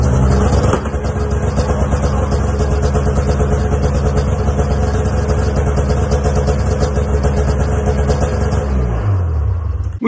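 A 2006 Arctic Cat F6 snowmobile with an aftermarket exhaust runs loud and close, its engine holding a steady, buzzy idle for about ten seconds before cutting off abruptly.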